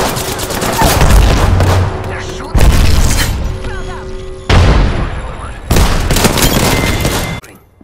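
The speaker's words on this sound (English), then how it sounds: "They're shooting." Gunfire and heavy booming blasts in the battle royale shooter Apex Legends, coming in several loud bursts separated by brief pauses, with dense bass impacts mixed into a busy game soundscape.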